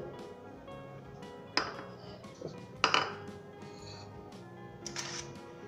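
Dried leaves are mixed with coconut oil in a small bowl, with a spoon clinking and scraping against the bowl in several sharp, irregular taps over a quiet background.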